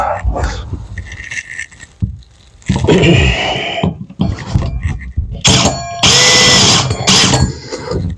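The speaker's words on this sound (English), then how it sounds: "these big hole saws are something to work with." A power drill whines in several bursts, a large hole saw grinding and chattering through a GMC motorhome's floor for a tank pipe, with short pauses between runs.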